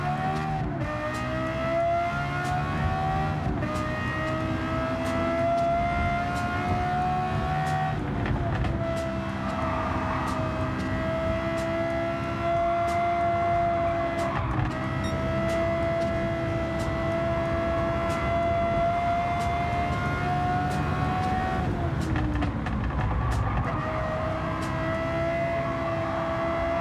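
A car engine in Gran Turismo 7 drones steadily at high revs, with a sustained whine that dips and climbs through gear shifts. It stays loud and continuous throughout, with no talk.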